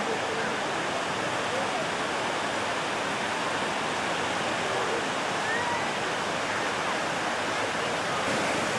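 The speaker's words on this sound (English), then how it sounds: "This view is taken from the bridge over the stream, down through the falls" Waterfalls on a stream at Gooseberry Falls State Park pour in a steady, dense broadband roar that fills the whole clip without a break, loud and close as if heard from the bridge above.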